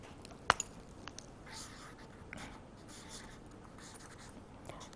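Pen writing by hand on paper in a quiet room, soft scratching strokes with a couple of sharper taps near the start, faint and continuous.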